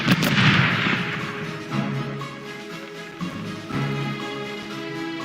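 Ship cannons fire in Corsairs Legacy: a heavy, booming opening blast rolls off slowly, then a second, fainter report follows a few seconds later over a humming musical background.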